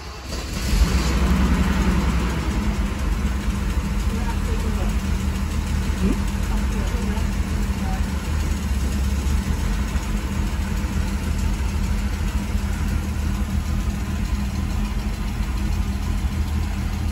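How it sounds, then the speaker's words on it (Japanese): A Toyota Crown MS100 with a freshly cleaned carburetor idles steadily and evenly for the whole stretch, a continuous close-up engine drone with no revving. "エンジンは安定してかかるようになりました。"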